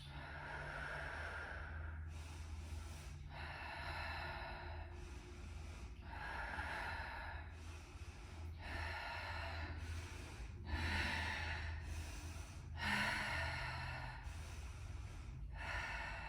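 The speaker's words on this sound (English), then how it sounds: "Breathing deeply." Slow, deep breaths during a core yoga session, about eight long inhales and exhales in a steady rhythm, close and clear over a faint low background hum.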